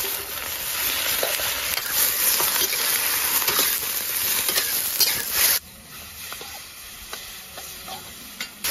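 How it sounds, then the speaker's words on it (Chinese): Pumpkin shoots stir-fry in hot lard with garlic, fresh bird's-eye chilies and dried chilies, a loud, close, continuous sizzle with scraping stirs that drops abruptly to a quieter hiss partway through. "油热放入大蒜、小米椒、干辣椒，然后把南瓜尖倒进来"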